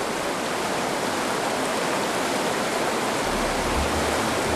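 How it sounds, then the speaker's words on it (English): The clean Irtysh River in Keketuohai Geological Park rushes past nearby, a loud, steady broadband roar of flowing water with no voices. "So clean and so fresh is the Irtysh River"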